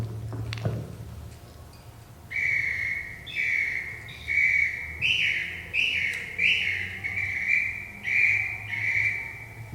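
A recording of birdsong: a series of about eight bright, whistled chirping phrases repeats in a steady rhythm, clear and fairly close, over a low background hum, following a brief thump at the start.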